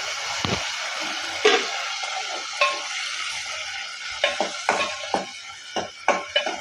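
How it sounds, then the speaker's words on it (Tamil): Onion and tomato sautéing in a pan with curry leaves after mustard seeds have popped, with a light hiss under a series of sharp spoon scrapes and taps against the metal, clustered toward the end, close up. "வெங்காயம் தக்காளி வதக்கியாச்சு"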